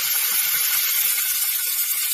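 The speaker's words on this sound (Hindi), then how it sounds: "तो अब हम इसमें डाल देंगे पानी" Water is poured into a pan of Assamese fish curry, giving a steady hissing rush with a faint sizzle, close and continuous, with no voices.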